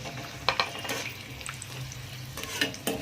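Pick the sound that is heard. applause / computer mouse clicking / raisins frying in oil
raisins frying in oil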